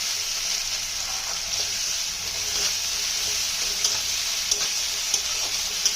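Onions salted and stirred in a pan sizzle steadily and close, a continuous broad hiss of frying with a few light scrapes and clicks from stirring, no voices over it.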